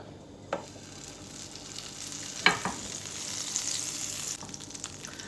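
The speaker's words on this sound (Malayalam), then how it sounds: "ഒരു പാന് ചൂടാകുമ്പോൾ അതിലോട്ട് ഒരു ടേബിൾ സ്പൂൺ ബട്ടർ ചേർത്ത് കൊടുക്കുക" A tablespoon of butter hits a hot pan and sizzles, a soft hiss that builds gradually, with a couple of sharp clinks from a utensil.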